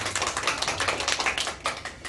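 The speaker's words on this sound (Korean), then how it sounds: "박수" A church congregation at a combined elementary children's worship service in Ho Chi Minh City claps to welcome a pastor: steady, quick, moderately loud applause from a small group, sustained for about two seconds with no talk.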